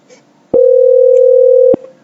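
A single steady telephone calling tone, loud and clean, lasting just over a second with abrupt start and stop, as a call is placed again.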